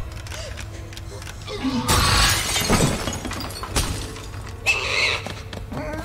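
Glass shatters in LEGO Jurassic World's Jurassic Park visitor center, a bright crash with scattering shards followed by a few smaller breaking bursts and thumps amid game background sounds.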